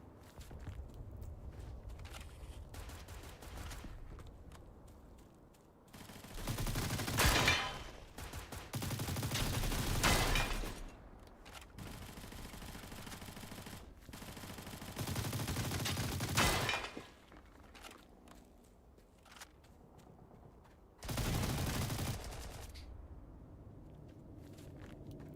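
An RPL gun fires in a video game in several sustained automatic bursts separated by quieter gaps, moderately loud over a low background with no talking.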